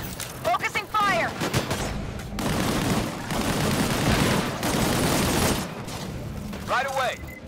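A squad in the video game Disintegration opens concentrated fire in a dense, sustained burst of rapid gunshots that lasts a few seconds. Voices speak just before and after the shooting.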